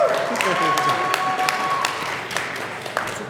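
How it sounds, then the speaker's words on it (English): An audience applauds the Overwatch panelists at the CBTS 2019 convention, with sustained clapping from a crowd that fades slowly and a voice talking over it. "Let's give a big round of applause to our fantastic panelists."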